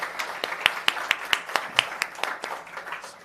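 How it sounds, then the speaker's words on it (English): An audience at a World Bank Group event on inclusive growth in South Africa claps in sharp, distinct, fairly regular beats, like a small crowd rather than a roaring ovation. "A round of applause,"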